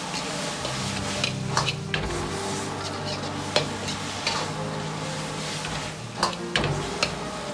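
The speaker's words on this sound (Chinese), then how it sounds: "再倒入控干水分的花菜，翻炒均匀。" Cauliflower and green pepper stir-fried in a wok over raised heat, a steady sizzle broken by scraping clacks of the spatula against the metal at irregular intervals.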